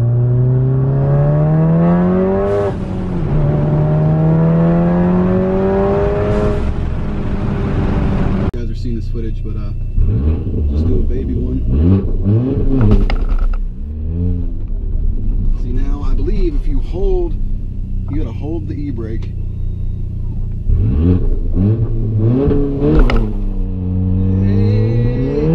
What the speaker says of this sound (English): now we can do burnouts. That's pretty sick.